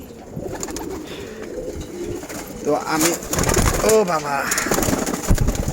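Pigeons, all female birds kept in cages at a seller's loft in Wari, Dhaka, coo softly and repeatedly beneath a voice talking close by.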